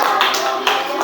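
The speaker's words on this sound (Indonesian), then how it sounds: "Kasih tepuk tangan untuk kelompok" Classroom of primary-school children clapping for a group of classmates, a dense burst of many hands with two brief surges, heard close and fairly loud.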